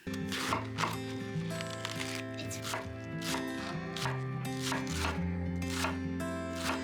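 Cabbage being chopped with a knife on a board while making sauerkraut, a steady series of sharp close chops repeating about once or twice a second over a constant low background hum.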